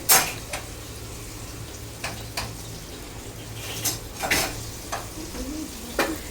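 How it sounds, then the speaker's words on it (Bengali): Spice masala sautés in a pan, a low steady sizzle broken by sharp scrapes and clinks as a spoon stirs and knocks against the metal every second or so. "মশলা কষানো হচ্ছে"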